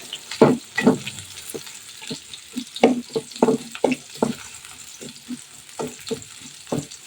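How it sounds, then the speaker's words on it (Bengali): Chopped onions, two large ones, go into hot oil in a pan for a Bengali doi rui fish curry, setting off bursts of sizzling and crackling with stirring scrapes, close and fairly loud, rising and falling irregularly. "তেল গরম হয়ে গিয়েছে আমি দুটো পেঁয়াজ কুচি করে দিয়ে দিচ্ছি"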